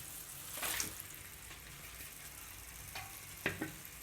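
Chicken pieces frying in spiced masala and oil in a pan for Tamil-style chicken varuval, giving a soft, steady sizzle with a few brief stirring scrapes, fairly quiet and with no talking.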